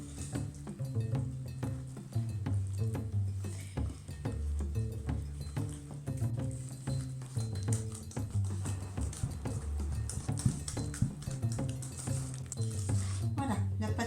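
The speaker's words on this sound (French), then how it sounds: "Et je continue à mélanger." Yogurt cake batter with melted coconut oil stirred in a bowl, a steady run of soft scraping and clinking from utensil against the bowl, continuing close by throughout.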